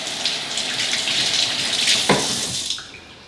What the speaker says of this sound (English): I'm going to rinse my filter here now.